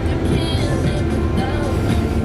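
Steady low rumble of a bus driving, heard from inside the cabin on a long road trip along Australia's west coast, a constant engine and road drone with no talk.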